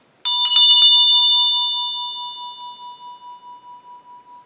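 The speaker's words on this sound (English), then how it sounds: "This is a Tibetan bell, designed for summoning Dakinis and other enlightened teachers." A Tibetan bell is struck several times in quick succession, then rings out as a clear, sustained metallic tone that slowly fades with a gentle pulsing shimmer, alone in a quiet room.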